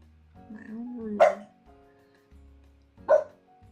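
Two sharp dog barks about two seconds apart, close and loud, with a brief whine-like sound before the first.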